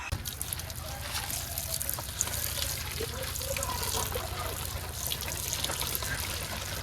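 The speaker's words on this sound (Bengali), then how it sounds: "তা আমি এইটা আগে লাউটা আগে ধুইয়ে হেবার কুটতে নিই।" Water splashes steadily as a bottle gourd is washed before cutting in a village kitchen, a continuous close rush of running and splashing water.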